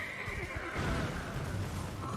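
A horse neighs and whinnies loudly in an Elden Ring game scene, the call rising and then falling away over a couple of seconds against constant game ambience, with no talk.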